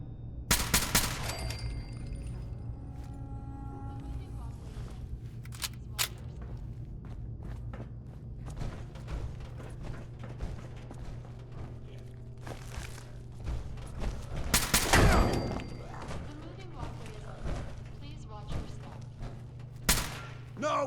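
Gunfire rings out in Fallout 4, with sharp rifle shots and bursts scattered over a steady low hum, a dense volley around the middle, and footsteps and thuds between the shots.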